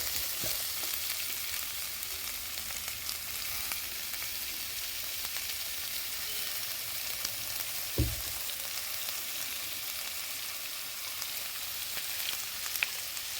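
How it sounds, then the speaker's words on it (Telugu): Vegetable curry with beetroot sizzling gently in a pan, a soft continuous frying hiss heard alone with one brief knock midway. "ఇలా కొంచెం ఫ్రై అవ్వనిద్దాము."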